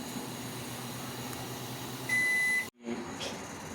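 A kitchen timer on a stove emits one sustained electronic beep as the countdown ends while milk boils for curd making, loud over a steady hum of the appliance, followed by a brief gap and the hum returning.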